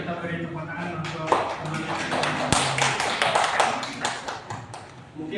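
Brief scattered clapping from a small group at a classroom lesson or presentation, a few sharp claps mixed with talking voices over a short stretch.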